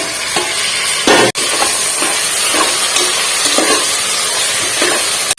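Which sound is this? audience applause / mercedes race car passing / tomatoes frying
tomatoes frying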